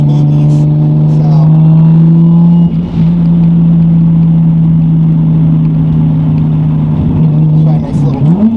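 A single-turbo Toyota Supra with a factory transmission pulls hard, its engine droning loud and steady from inside the car, pitch climbing then holding through a shift before rising again near the end.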